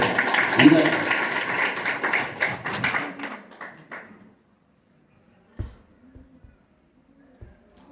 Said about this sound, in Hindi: इनके लिए फिर दोबारा से एक बार ताली हो जाए